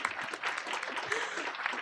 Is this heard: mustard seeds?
no